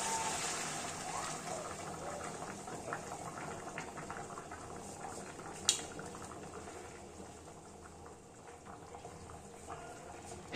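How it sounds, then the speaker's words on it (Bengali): Hot water is poured into a pot of browned Jamaican brown stew chicken, a steady bubbling gush that slowly fades, with a single sharp clink near the middle. "এবার আমরা ঝোলের মাপ মতো এতে গরম জল দিয়ে দেব।"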